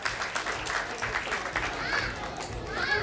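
A crowd at a school prize ceremony claps steadily for a few seconds. The sound is dense and even, with faint chatter mixed in.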